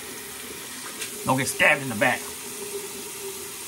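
Warm water runs from a tap into a sink as pre-shave prep, a steady faint stream beneath brief talk in the middle.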